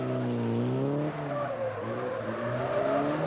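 A 2-litre Ford Escort driven hard around an autotest course by a farmer with stock car racing experience, its tyres squealing in long wavering skids over a loud, straining engine note that rises and falls, with no talk.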